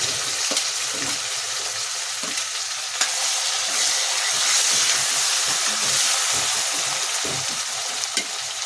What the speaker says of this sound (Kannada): ಇವಾಗ ಈ ರೀತಿ ಟೊಮ್ಯಾಟೊ ಎಲ್ಲ ಚೆನ್ನಾಗಿ ಫ್ರೈ ಆಗಿದೆ.